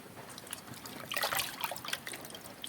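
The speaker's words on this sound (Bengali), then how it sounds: "এবার আমি এটা জলটা ভালো করে চিপে বের করে নেব" Water trickles and drips as kneaded, rubbery flour dough is squeezed by hand, soft irregular splashes that rise briefly in the middle, quiet and close.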